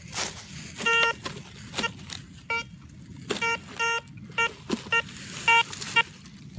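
A metal detector searching a World War One militaria site gives short repeated tonal beeps over a buried target, coming in irregular bursts against quiet outdoor background noise.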